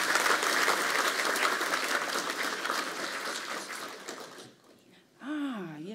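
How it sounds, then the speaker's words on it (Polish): Audience at an academic year inauguration ceremony at a Polish technical university applauds in a full, sustained burst that dies away, followed by a speaking voice. "brawa dla naszych"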